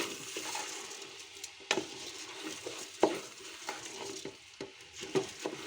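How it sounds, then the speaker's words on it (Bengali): Rice and red lentils being stirred together in a cooking pot for vegetable khichuri, a soft scraping and rustling with a few sharper knocks of the spoon against the pot, close and steady. "এখন আমি পুরোটা মিশিয়ে দিচ্ছি"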